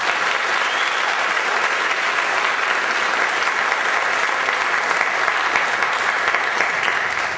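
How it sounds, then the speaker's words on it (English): A concert audience applauds students at a spring symphonic band and wind ensemble concert, a loud, dense, steady wash of many hands clapping that holds for the full stretch. "Let's give these students a round of applause."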